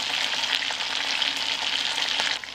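Meat sizzles in a pot with halved onion, garlic cloves and dried rosemary, a steady, close, crackling fry that holds at even loudness throughout, with no voices.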